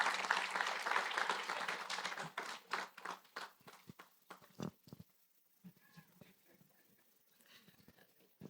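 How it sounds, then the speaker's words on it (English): Conference audience at a financial literacy and wealth creation training event clapping, a dense burst of applause that thins into scattered claps and fades out, with some murmuring near the end. "A round of applause for Mrs. Banda, ladies and gentlemen"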